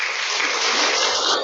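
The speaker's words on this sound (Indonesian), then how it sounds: "kalau kata gratis pasti tepuk tangan" Brief burst of applause from a congregation at a Sunday Buddhist service, a dense, loud wash of clapping hands, close and continuous for a moment.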